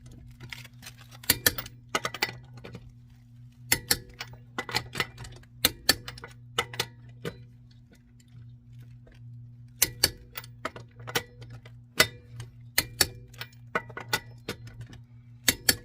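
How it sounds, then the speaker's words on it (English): A torque wrench set to 96 foot-pounds clicks while tightening rear brake bolts on a 2019 Subaru Forester, sharp isolated clicks and ratchet ticks scattered irregularly over a steady low hum, close and fairly quiet. "I have my torque wrench set to 96 foot-pounds."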